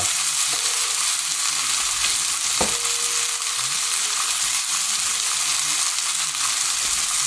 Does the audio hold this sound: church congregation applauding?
no